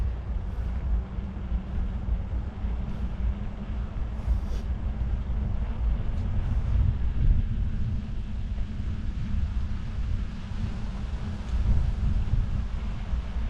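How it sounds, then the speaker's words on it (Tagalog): Strong wind buffets the microphone in Canada in a continuous low roar, steady and loud throughout with no voices. "Malakas ang hangin."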